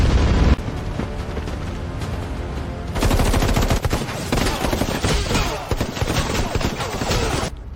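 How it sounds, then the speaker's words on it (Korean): Air force guns opening fire in a dramatic time-war battle: dense, continuous gunfire and heavy booms fill the whole stretch, loud and sustained, with a brief drop near the start. "대한민국 공군 사격 개시."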